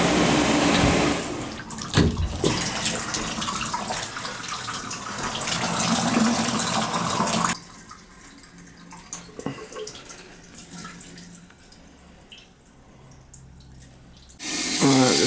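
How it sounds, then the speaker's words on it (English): Water running from a newly replaced tub shower valve, a steady close hiss and splash that stops and starts, with dripping in the quieter stretch and no talking. "just running some water here, make sure I got no leaks"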